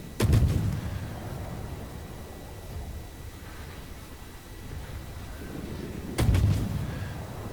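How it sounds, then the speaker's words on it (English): Heavy naval guns from a warship in World of Warships fire in two deep, booming salvos, one at the start and another near the end, with rumbling low noise between them. "So we're going to slow down and we're going to start shooting at him."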